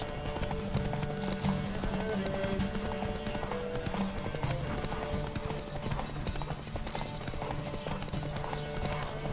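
Hoofbeats of a horse galloping in The Witcher 3, a steady rapid clip-clop rhythm close and loud throughout, with occasional whinnies over a musical game score.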